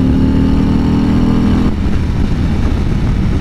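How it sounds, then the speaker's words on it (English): A loud 2020 Harley-Davidson CVO Road Glide motorcycle engine rumbles steadily, its idle shifting down partway through, with no talking. "Harleys, man, they just sound awesome."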